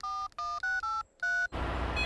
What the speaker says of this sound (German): Ich rufe den nächsten Rettungsdienst.